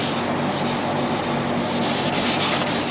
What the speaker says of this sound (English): now I'm sanding with 600 paper